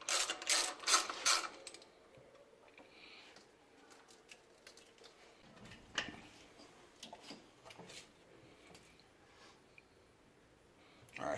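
Socket wrench ratcheting on intake manifold bolts of a Hyundai Genesis, quick bursts of clicking near the start, then scattered lighter clicks and metallic taps at moderate level, with faint talk in the background.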